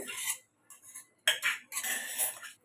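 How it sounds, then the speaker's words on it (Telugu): Cucumber pieces and green chillies are ground by hand for a cucumber pickle, making intermittent scraping, gritty rubbing strokes with occasional clinks in short bursts and brief quiet gaps, with no talk. "దోసకాయ ముక్కలు కూడా వేసి దోసకాయ ముక్కలు కూడా ఇలా మెత్తగా వచ్చేట్టు నూరుకుందామండి"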